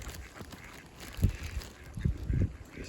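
Ducks and geese being fed on a Sunday morning hike, with a few faint honks and quacks at moderate distance over outdoor ambience, no talking.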